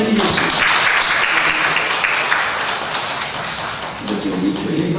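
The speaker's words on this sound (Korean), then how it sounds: "박수 한번 드리겠습니다." A church congregation claps for newcomers at a Sunday service, a lively burst of applause that fades in the middle and swells again, with some talk mixed in.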